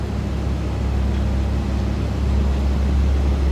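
A 1983 Buick Riviera convertible with a 5-liter engine idles, giving a steady low rumble with no one speaking.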